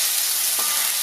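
Ground spice paste hitting hot cooking oil over medium heat for Indonesian fried rice, a steady close sizzle and crackle of frying with a brief burst as the paste goes in.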